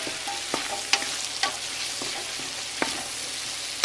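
Vegetables for New England clam chowder sizzle steadily in a pan as ground black pepper is stirred in, with soft utensil scrapes and taps over the constant frying hiss.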